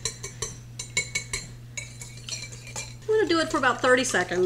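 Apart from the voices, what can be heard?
whisking two eggs in a bowl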